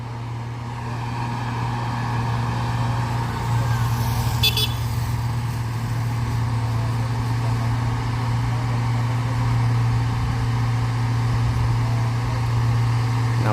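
An orange truck, likely a Hino or Fuso, labours uphill in the right lane on a hill road, its engine a steady low drone close by, with a brief horn toot early on and no talk.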